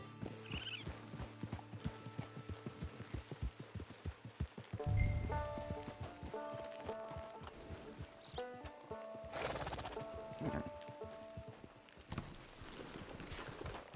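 Horse hooves clip-clop at a steady walking rhythm in the video game Red Dead Redemption 2, with a neigh partway through, over faint ambient music and outdoor background.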